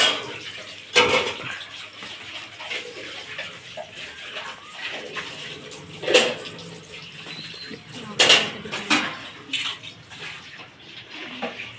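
Cold tap water runs over dishes at a household sink, a steady splashing stream broken by louder gushes and clinks of utensils, close and continuous for the whole stretch.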